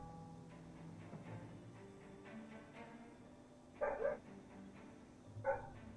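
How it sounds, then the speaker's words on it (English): A dog barks outdoors in a video game scene, two short bursts of barking a moment apart, fairly distant over a quiet ambient score. "Oh, that's a dog outside."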